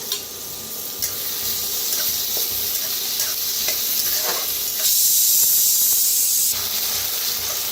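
Chopped onion, curry leaves, chili and garlic roast in a hot pan, giving a loud, continuous sizzle with scraping stirs and a brief swell of harsher hiss midway.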